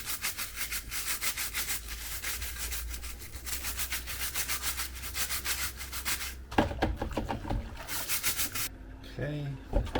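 Bosch dishwasher parts being scrubbed by hand with a brush, rapid close rhythmic rasping strokes in bursts that pause and change pace near the end, with no talk.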